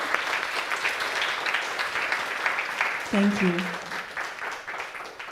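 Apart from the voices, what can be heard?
audience applause after presentations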